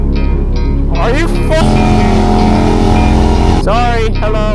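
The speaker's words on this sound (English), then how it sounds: "Bro's on the new Gixxer 600, freshly tuned by More Mafia, so it's freaking sounds insane." Loud, close Suzuki Gixxer 600 motorcycle with a pops-and-bangs tune revving hard, its engine roar rising and falling in sweeping pitch runs with a second rev burst near the end, while a voice talks over it.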